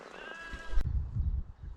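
A single sheep bleats close by near a stile on a Yorkshire farm path, then wind buffets and rumbles the microphone in open countryside.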